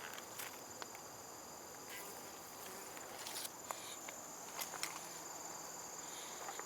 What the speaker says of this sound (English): Got some bees in there pollinating,